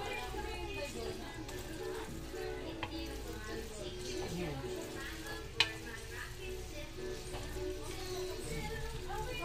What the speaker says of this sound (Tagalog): Nalo-halo ko lang.